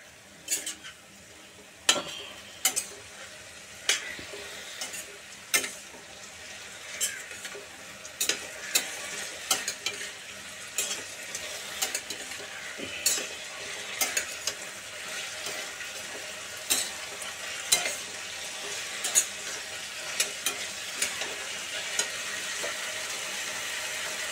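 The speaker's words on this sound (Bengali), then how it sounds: "এবার সেই কাঁচা ছোলাটা এর মধ্যে দিয়ে দিলাম। এবার এটাকে কষাবো।" Boiled chickpeas being sautéed in a pan for a pumpkin chakka, with a steady soft sizzle under repeated sharp scrapes and clinks of a spatula against the pan, close and fairly quiet.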